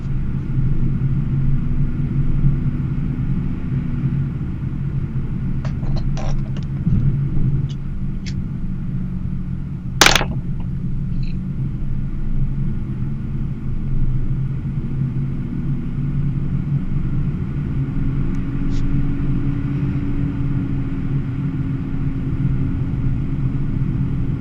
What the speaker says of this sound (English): I don't know if you guys can hear all the traffic outside my house